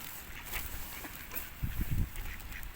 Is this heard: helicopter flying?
no